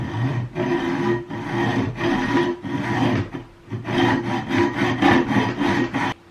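A saw rasps back and forth through an aluminum French cleat in a workshop, loud rhythmic strokes with brief pauses between them, continuing steadily to a finish.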